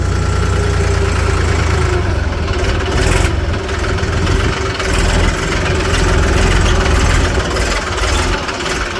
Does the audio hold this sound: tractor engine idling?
yes